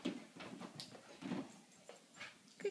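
A dog whimpers and pants in short, faint bursts while playing, with scattered soft movement sounds in a quiet room and no clear talk.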